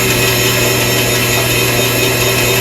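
A saw blade cuts through wood with a loud, steady, continuous grinding drone that holds throughout.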